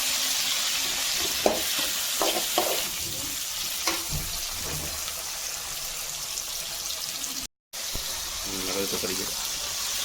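Tomatoes sizzle and fry in a hot pan while being stirred, with intermittent scraping clanks of the spoon against the pan and a voice speaking over the steady crackle.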